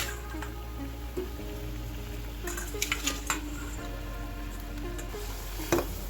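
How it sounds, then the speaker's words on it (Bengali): Okra hits a pan of frying spice with turmeric and salt, giving a steady soft sizzle with a few clinks and scrapes of stirring scattered through, alone with no talking. "এবার এর মধ্যে ঢ্যাঁড়সগুলো আমরা দিয়ে দিচ্ছি"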